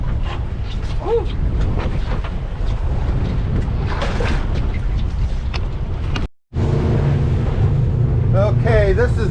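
A halibut fishing boat runs offshore through rough waves, its engine rumble and wind buffeting loud and steady throughout, with water slaps and a brief dropout midway; a voice chatters faintly over the noise.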